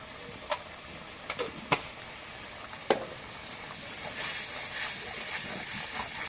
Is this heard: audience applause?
no